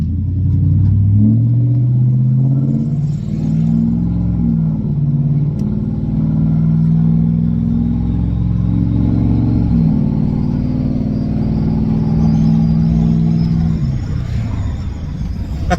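A 2004 Dodge Ram 2500 with a 5.7 Hemi, muffler delete and dual exhaust drones loudly and steadily, heard from inside the cab, with the engine pitch rising and falling slightly as the truck accelerates and holds speed.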